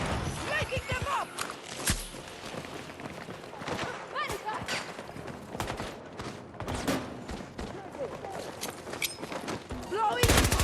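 Grenade launcher fire in a video game mixed into dense combat noise, with repeated thumping shots and explosions under continuous gunfire.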